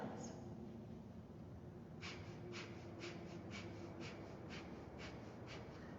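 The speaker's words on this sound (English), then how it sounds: "Breath of fire is rapid inhales and exhales through your nose that are powered by your navel" Kundalini yoga breath of fire: quick, evenly spaced sharp nasal inhales and exhales, about eight puffs in a regular pulse, faint and close over a quiet background.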